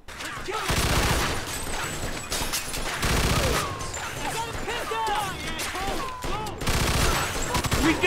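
Dense, rapid gunfire rattles through a shootout in the Mafia 2 game, loud and nearly continuous in bursts, with shouting voices mixed in among the shots.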